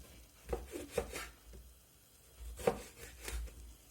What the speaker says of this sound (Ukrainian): Баклажани нам потрібно нарізати ось такими кілечками